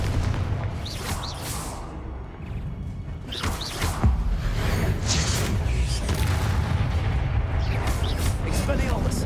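Confringo fire spells detonate in Hogwarts Legacy, a dense run of booming magical blasts over constant rumbling battle noise, with shouted incantations and voices mixed through the continuous loud din.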